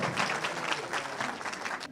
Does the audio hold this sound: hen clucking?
no